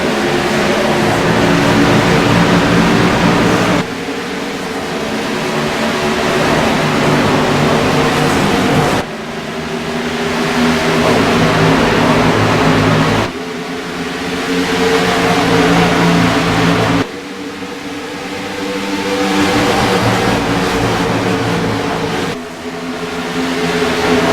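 NASCAR Gen 6 race cars in a racing video game at Kansas Speedway roaring as they accelerate at the green flag, a loud continuous engine drone rising and falling in long sweeping passes.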